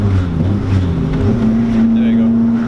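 A supercharged Honda S2000 engine drones loudly up close while downshifting to fourth, its low roar settling into a steady sustained tone under wind noise.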